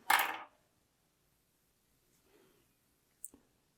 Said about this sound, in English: now what we're going to do is just cut that green thread